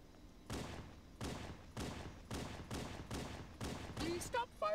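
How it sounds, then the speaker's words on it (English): Rapid bursts of gunfire in Halo: Combat Evolved, six or seven evenly spaced volleys ringing out loud and close, with a brief electronic chirp near the end. "Please stop firing your weapon"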